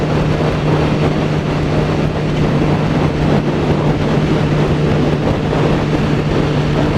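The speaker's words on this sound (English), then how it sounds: "So I'm just giving this a sort of a high rev run, just to sort of let it get hot." A car engine with an oil leak held at high revs to warm up, giving a loud, steady, unbroken drone with a constant low hum throughout, no voices.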